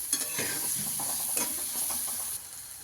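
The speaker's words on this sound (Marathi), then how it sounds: "थोडंसं हलवून घेऊ" Ground whole-spice masala frying in oil for an egg curry, a steady sizzle under short scraping stirs, close and fairly quiet, no talking.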